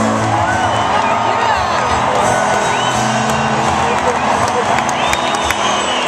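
A large outdoor crowd at a concert cheers with whoops and shouts. The roar is dense and continuous with scattered clapping, loud and sustained throughout.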